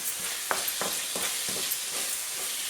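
A spoon stirs vindaloo curry with sugar in a hot pan, a steady sizzle broken by a handful of rhythmic scraping strokes roughly every third of a second, close by.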